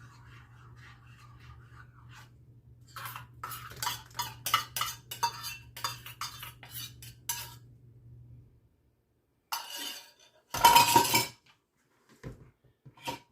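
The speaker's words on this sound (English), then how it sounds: "Just mix it till it's stirred." A spoon stirs yeast mixture and chunky Crisco into nutroll dough in a bowl, with soft clinking and scraping strokes in a steady rhythm, a low hum underneath, then a few sharper knocks.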